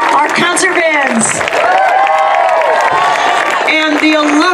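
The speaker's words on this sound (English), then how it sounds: "Another round of applause for our advanced orchestra." A school concert audience applauds and cheers for an advanced orchestra and band, with sustained dense clapping, whoops and crowd noise filling the hall throughout.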